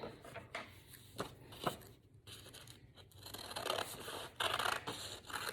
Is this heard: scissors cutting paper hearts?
yes